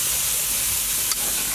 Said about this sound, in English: Kind of see it sizzling.